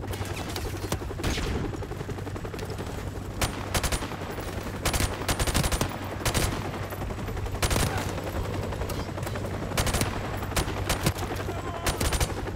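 Continuous gunfire in the Call of Duty: Modern Warfare Remastered game, dense automatic bursts punctuated by sharp louder shots, steady and loud over a low hum.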